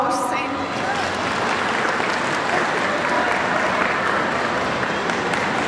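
A crowd at a pet expo breed demonstration of Bernese mountain dogs applauds steadily, a dense, even wash of clapping that holds at the same loud level throughout.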